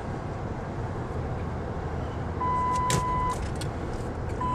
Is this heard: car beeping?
yes